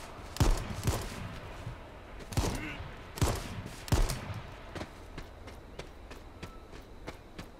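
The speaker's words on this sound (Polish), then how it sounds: "Kurde, on strzela, ale nie do mnie, bo mnie to nawet nie zauważył." Gunfire in the battle royale game H1Z1 comes as a series of sharp, fairly distant shots, a few heavy cracks early on followed by a quicker run of lighter shots, with no talk.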